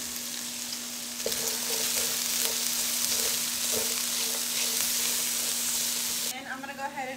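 Asparagus seasoned with lemon pepper and salt sizzles and fries steadily in a pan, with faint stirring clicks over a constant hiss, close and fairly loud, ending with a brief change in tone.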